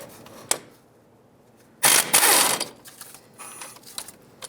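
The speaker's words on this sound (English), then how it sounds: "With a 17mm, I'm going to remove this bolt and this one here." A 17mm wrench loosens the front brake caliper bolts on a 2003-2009 Toyota 4Runner, heard as a sharp metallic click followed by a dense burst of rapid ratcheting, then scattered lighter tool clinks.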